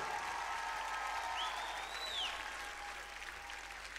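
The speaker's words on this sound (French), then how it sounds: "Les applaudissements, ils sont pas assez forts, là." Festival crowd applauding a live band at Francofolies 2012, a continuous wash of clapping heard from a distance at moderate to faint level, holding steady and easing slightly toward the end.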